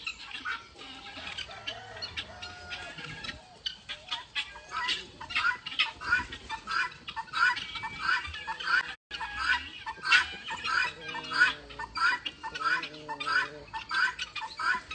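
Chickens and other fowl in a farmyard cluck and call continuously, with rapid overlapping clucks and cackles close by, forming a busy, steady chorus throughout.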